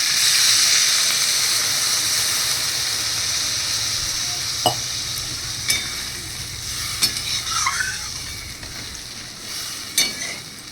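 Water hits a hot pan of vegetables and fish curry with a loud, bright sizzling hiss that gradually eases off, followed by a few clinks of a spoon against the pan.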